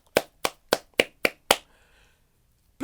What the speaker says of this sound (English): please give a big round of applause for our very special guests